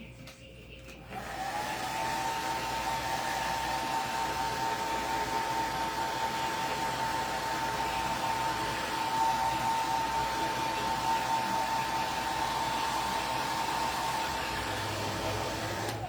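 A hair dryer runs steadily at close range for about fifteen seconds, blowing warm air over fresh paint on a bottle decorated in a beachy craft makeover. The motor starts after a short pause and then holds a constant whine with no talking.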